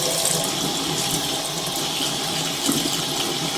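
Hot water running steadily from a sink tap, a constant hissing gush that continues without pause and with no talk.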